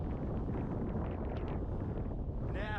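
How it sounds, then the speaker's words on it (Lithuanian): Wind blows steadily across the seashore, a continuous close rumble of microphone buffeting with a brief whine near the end. "Bet vėjėlis."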